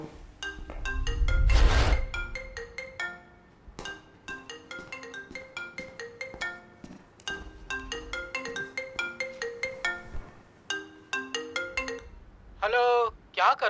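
A phone ringtone plays a repeating melodic tone pattern for several seconds, loud and clear, with a brief burst of noise near the start and a warbling tone at the end.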